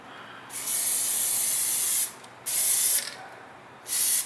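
A spray nozzle fires in three hissing bursts, the first long, then a short one and a brief final one, each loud and close with quiet gaps between, on a Halo 4 gravity hammer prop build.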